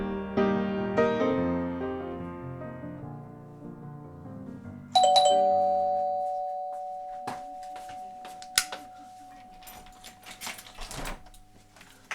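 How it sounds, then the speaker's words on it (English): Doorbell at the door of a home chiming a descending multi-note melody, then a second sharp ring that lingers as a sustained tone, followed by scattered clicks and light knocks. "Bell works then."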